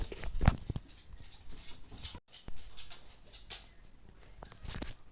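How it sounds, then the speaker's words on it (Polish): A dog's paws patter into a room, giving scattered soft taps and scuffs that are faint and irregular over steady background noise. "Sorry za szum, ale mój pies wlazł do pokoju."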